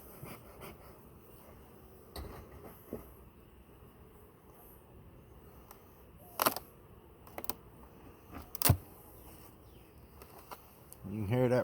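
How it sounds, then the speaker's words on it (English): Sticky propolis cracking and snapping as a beehive is pried open, a few sharp close pops and cracks over a quiet outdoor background, with someone talking. "You can hear that propolis breaking free."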